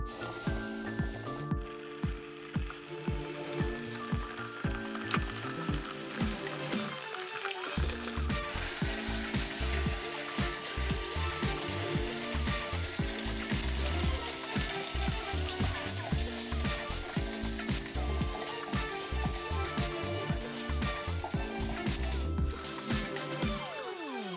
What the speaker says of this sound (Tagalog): So taste buddies, ready na i-fry ang ating chicken.